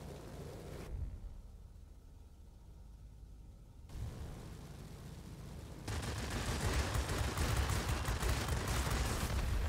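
Aircraft guns rattle in dense bursts during World of Warplanes dogfighting, flying an F7F Tigercat heavy fighter, with a sustained roar of fire building loud in the later seconds over engine drone.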